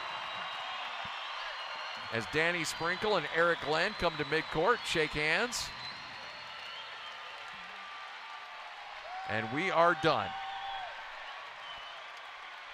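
A basketball arena crowd at a college game's close, Utah State hosting South Dakota Mines, holds a steady roar and applause in the background beneath a commentator's play-by-play.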